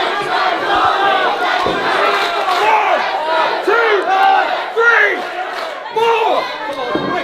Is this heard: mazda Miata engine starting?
no